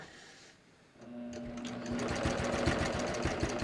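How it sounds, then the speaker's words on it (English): A sewing machine stitches thick fleece, starting up after a quiet second into a fast, steady rhythmic chatter of the needle, close and moderately loud with no talk. "I'm just going to start stitching."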